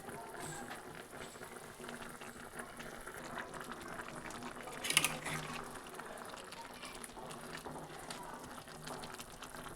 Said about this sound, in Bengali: ভাজা মাছগুলো এর মধ্যে দিয়ে দিচ্ছি